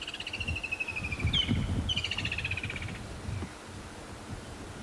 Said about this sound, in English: Could be red-backed shrike, I think, making that noise.